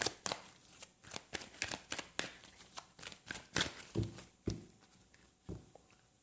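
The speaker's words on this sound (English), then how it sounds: "I'm going to shuffle a bit more here" Tarot cards being shuffled by hand, a series of crisp riffling bursts and soft slaps in an irregular rhythm, close and clear with no talking.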